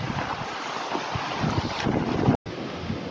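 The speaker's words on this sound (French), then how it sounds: "C'est très venteux." Strong autumn wind blowing outdoors, a steady roaring rush buffeting the microphone, loud and continuous with a brief cut near the end.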